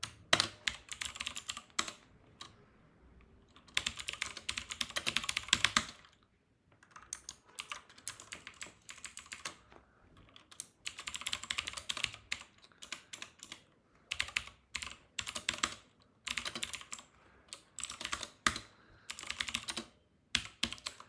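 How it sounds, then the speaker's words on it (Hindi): Fingers tap on a computer keyboard in bursts of rapid clicking separated by short pauses, close and fairly quiet, with no talking. "मैं आपको भी एक एग्जाम्पल टाइप करके बता देता हूँ"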